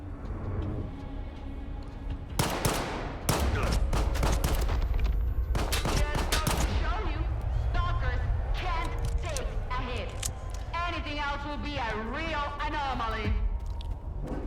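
Pistol shots in a combat video game ring out as sharp cracks in the first half, then give way to game noise and a voice talking over the rest.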